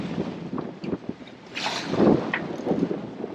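Strong 20-25 knot wind at a sailboat anchorage, steady roaring gusts buffeting the microphone along with water and hull noise, swelling louder midway through with no talk.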